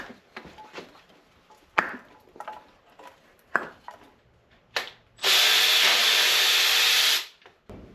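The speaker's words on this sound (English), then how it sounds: "Let's get the spark plugs out of the way, spark plug wires out of the way." Spark plugs and wires being removed from a 351 motor, with close clicks and ratcheting taps from hand tools followed by a loud two-second hiss of compressed air, then a short click.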